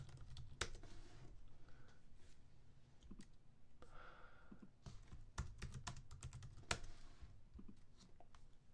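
Close, quiet typing on a computer keyboard during a coding session, irregular bursts of sharp key clicks with brief pauses between them.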